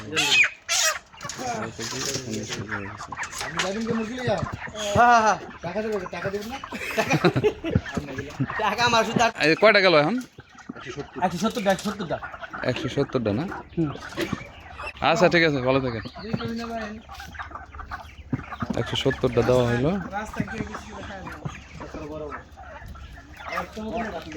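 Hens cluck and cackle repeatedly nearby while people talk over them, the clucking rising and falling in bursts.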